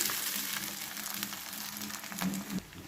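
Flattened rice coated with salt and turmeric dropping into a hot tempering in a pan, giving a steady close sizzle with a brief louder hiss near the end.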